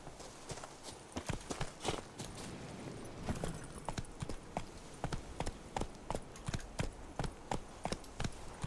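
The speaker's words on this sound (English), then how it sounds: "Let's go ahead and grab our horse." A horse trots in The Witcher 3: Wild Hunt, and its hooves clip-clop in a steady, even rhythm of close, crisp strikes that continue throughout under a low ambient bed.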